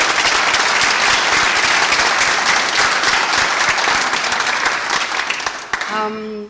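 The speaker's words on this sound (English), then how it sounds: "I'd like to invite everyone to give a round of applause for the teachers" Sustained audience applause for the teachers at a master's graduation ceremony, a dense, loud wash of many hands clapping for about six seconds before it cuts off abruptly, followed by a brief tone.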